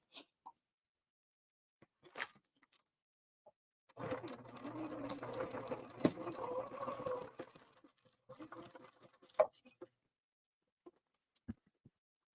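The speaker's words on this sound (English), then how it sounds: "So I'm sewing the straight part inside" A sewing machine stitches a tote bag lining in one quiet burst of rapid, steady whirring lasting about three seconds, with faint handling clicks before and after.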